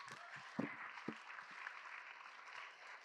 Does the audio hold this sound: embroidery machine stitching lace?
no